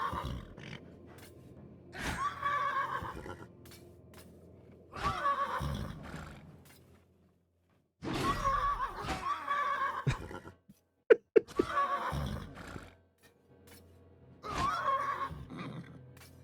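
An armoured horse in combat in the video game Wartales, several loud whinnies and neighs in repeated bursts separated by short pauses, with a few sharp impacts in the middle.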